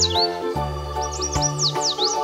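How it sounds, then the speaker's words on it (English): Yellow warbler song, a run of high, clear chirping notes with quick rising and falling sweeps, loud and close over a steady tonal background. "Yellow warbler."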